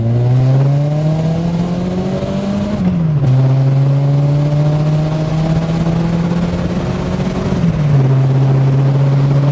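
A Volkswagen Golf G60 engine pulls hard under acceleration, a loud steady drone that rises in pitch, dips briefly at a gear change, then climbs again before a second shift near the end.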